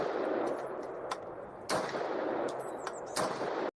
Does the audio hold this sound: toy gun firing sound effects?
yes